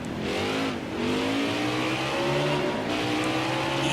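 A 5.86-litre naturally aspirated V8 race car in the NASCAR Heat 5 video game revs hard and continuously, its pitch rising and dipping with gear changes, loud and alone.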